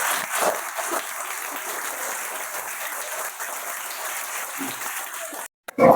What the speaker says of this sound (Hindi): चलिए ताली बजाइए सबको।